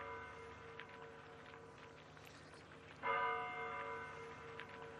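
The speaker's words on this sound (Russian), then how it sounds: "Интересно, колокол бьет. Это колокол" A monastery church bell at Valaam strikes once with a loud, sustained ringing tone that decays slowly, after quieter bell resonance and faint footsteps.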